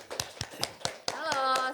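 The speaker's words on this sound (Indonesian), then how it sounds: "Boleh minta tepuk tangan untuk Mbak Nisa." A handful of sharp, evenly spaced hand claps ring out close by in a podcast studio, about five in quick rhythm, before a voice carries on over the last one.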